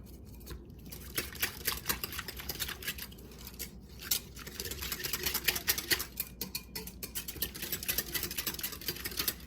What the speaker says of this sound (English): I'm just going to stir that until the Jello is dissolved.